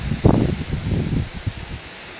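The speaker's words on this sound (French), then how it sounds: "Je suis désolée pour le vent, il y a pas mal de vent encore." Gusty wind buffets the microphone outdoors in a vegetable garden, a low rumbling roar that swells and fades over a couple of seconds, with no voices.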